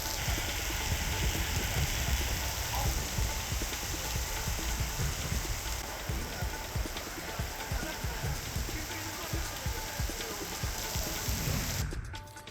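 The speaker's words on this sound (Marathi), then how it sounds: "पिंपरी चिंचवडमध्ये अवकाळी पावसानं दमदार हजेरी लावली" Heavy unseasonal rain pours in Pimpri Chinchwad, a dense, steady hiss of drops on surfaces that holds evenly for the whole stretch before cutting off abruptly at the end.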